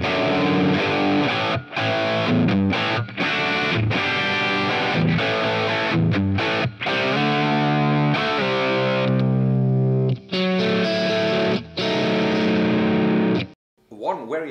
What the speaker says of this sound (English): Let's see how the distortion amp models sound like.